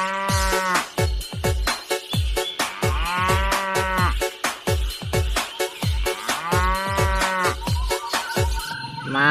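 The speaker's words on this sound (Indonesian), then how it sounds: "ada induk kerbau" A mother water buffalo moos loudly and repeatedly in a regular rhythm of short, deep, rising calls, close and unaccompanied by talk.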